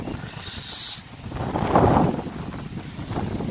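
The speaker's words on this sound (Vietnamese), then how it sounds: "Đây gió to lắm mọi người nha." Strong wind gusts near a lake in a small town garden, roaring and buffeting the microphone in broad, continuous rushes that swell and ease without pause.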